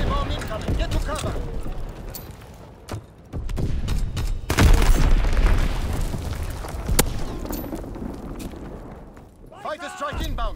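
Bombs explode in Call of Duty WWII, heavy booms and rattling bursts rolling one after another amid scattered gunfire, with a voice talking over the chaotic battle noise.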